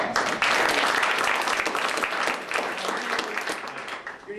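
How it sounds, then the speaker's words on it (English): Audience applause for a volunteer called up on stage at a Darwin Week magic show: dense, steady clapping from a crowd that holds strong for about four seconds and then eases slightly. "Give a round of applause."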